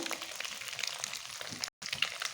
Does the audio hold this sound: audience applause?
no